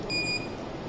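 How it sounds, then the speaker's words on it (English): An obstacle-detecting wearable device for blind people gives a single short, high electronic alarm beep over a steady background hum. "If anything comes in front of this, it will automatically give an alarm call suddenly."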